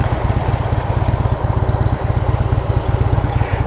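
A 2015 Harley-Davidson Low Rider with its 103 cubic inch engine, roughly 1700 cc, idles steadily with a loud, lumpy low-pitched throb and regular uneven pulses, heard close and alone with no talking.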